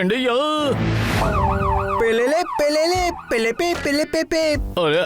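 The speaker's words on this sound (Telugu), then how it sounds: "ఆ తర్వాత ఇక్కడ అంబులెన్స్ వస్తుంది" A loud cartoon ambulance siren in a children's animated show wails and yelps continuously, close and steady, its pitch sweeping up and down throughout.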